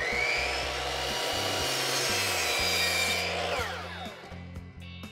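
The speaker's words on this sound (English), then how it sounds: "Mark and cut down the piece to fit." A handsaw rasps steadily back and forth through a wooden board in quick rhythmic strokes, loud and close, slowing and trailing off at the end.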